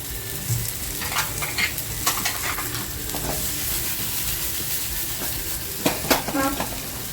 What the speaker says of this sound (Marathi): हलक्या हाताने छान फ्राय करून घ्यायचे